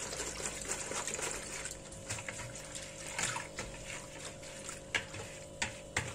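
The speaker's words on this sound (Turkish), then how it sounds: "Çırpıcıyla iyice karıştırıyorum." Warm milk, sugar and yeast whisked in a bowl, a soft continuous swishing with light clinks and taps of the whisk, ending in a few sharper knocks.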